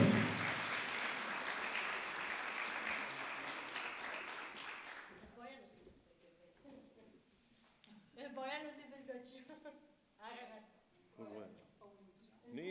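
Audience applause for a young girl named Marija at the 70th anniversary celebration of PSD Crni vrh mountaineering club in Bor, loud and sustained for about five seconds, then fading into scattered speech and voices.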